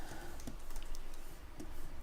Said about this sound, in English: I'm doing a lot of button clicking on my keyboard